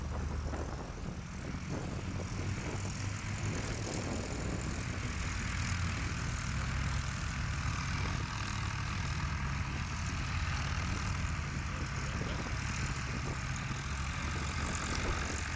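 A Piper Super Cub STOL plane with front slats lands during Heritage STOL practice in Virginia Beach, Virginia. Its propeller engine holds a continuous, moderately loud drone throughout, with no voices.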